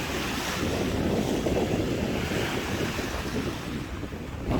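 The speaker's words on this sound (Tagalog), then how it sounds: "malakas pa rin ang alon" Strong surf on Taal roaring continuously, heavy waves washing over each other with gusty wind buffeting the microphone.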